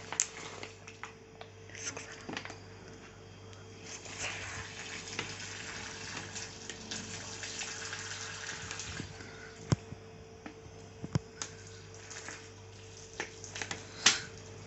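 Water poured onto soil in an erosion experiment, producing a continuous soft, hissing trickle with occasional small splashes and ticks, steady throughout and fairly close.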